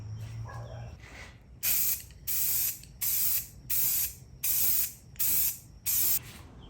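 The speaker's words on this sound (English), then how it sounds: "For this step, I'm going to spray the whole thing." Seven short bursts of spray-can hissing in an even rhythm, each about half a second long with brief pauses between, close and loud.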